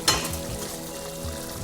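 Pork boils in a covered pot, giving a short, steady bubbling sizzle with one brief louder burst at the start.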